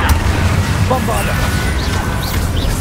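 Bombarda explosion spell in Hogwarts Legacy, a heavy low booming rumble with crashing debris and whooshing magical effects, loud and dense throughout amid combat, with a voice briefly present.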